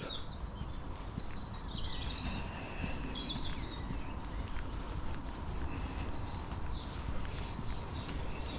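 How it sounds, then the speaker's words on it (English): Several birds sing and chirp in bright, repeated phrases at a moderate distance outdoors, calling on and off over a low, steady background rumble during a walk. "to listen to the birds."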